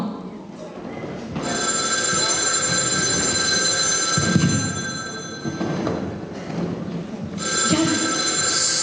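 A telephone rings on and on in long, loud electronic bursts with brief gaps, a single shared phone line for the fire service, police and hospital, ringing alone without any voices.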